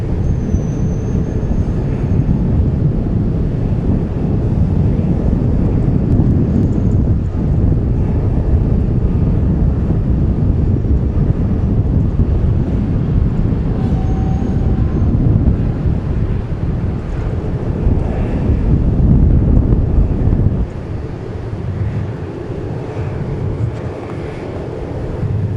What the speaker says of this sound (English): There's a bit of wind, I would say 10 to 15 knots.